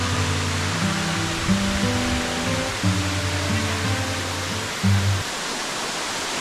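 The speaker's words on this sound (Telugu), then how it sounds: "అల్లూరు సీతారామరాజు జిల్లా కొయ్యూరు మండలం ఎర్రవరం జలపాతానికి వాటర్ ఫాల్స్కి వచ్చాము మేమందరం." Yerravaram waterfall in Koyyuru mandal, Alluri Sitarama Raju district, roars as a dense, constant broadband rush of falling water, with faint background music beneath.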